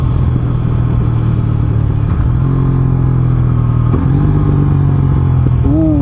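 An Aprilia RS660 sportbike's exhaust burbles and rumbles close by while riding, its engine note shifting in pitch as the throttle changes, with a short rising rev near the end.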